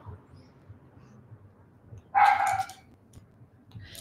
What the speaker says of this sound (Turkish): Ay bu köpek yine havlıyor.